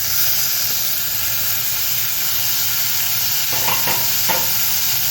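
Chopped tomatoes hitting hot oil in a pan alongside onions, giving a loud, constant sizzling hiss with a few brief clicks of stirring near the end.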